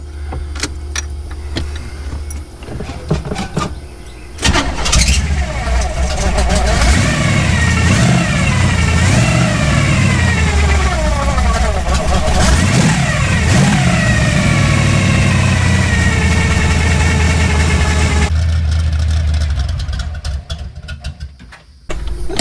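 An old carbureted car engine cranks and catches, then revs up and down loudly for several seconds before cutting off, close and unaccompanied by talk.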